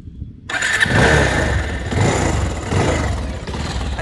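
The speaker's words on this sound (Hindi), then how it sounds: "इंजन स्टार्ट करिए।" A Bajaj Pulsar 220 motorcycle with 34,000 km on it starts up after a brief silence, catching at once and settling into a loud, close, steady idle.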